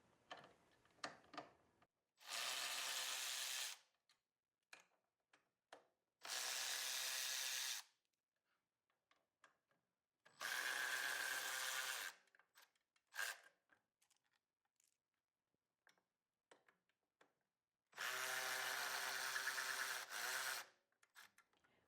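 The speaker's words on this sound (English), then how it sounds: "Before we do that, we got to remove these 4 bolts" A power tool on an Indian Scout motorcycle drives out the four fuel-tank bolts in four separate bursts of a few seconds each, close and loud, with quiet clicks and handling noises between them and no talking.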